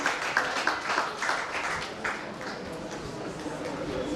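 Scattered audience clapping at an inter-collegiate English proficiency contest, a few distinct claps early on, then thinning into diffuse crowd noise and murmur; the applause is sparse and fairly faint.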